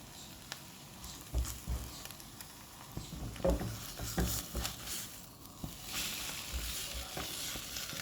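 Egg being stir-fried dry in a pan, with soft scraping and stirring strokes and a low, faint sizzle running steadily underneath, up close and quiet with no talking.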